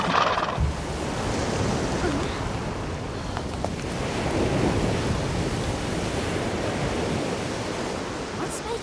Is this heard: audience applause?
no